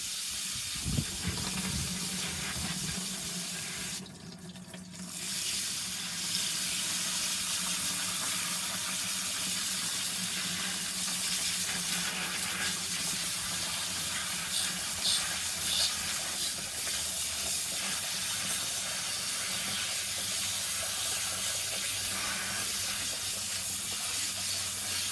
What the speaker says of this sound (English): I'm going to start to hose these down with a water hose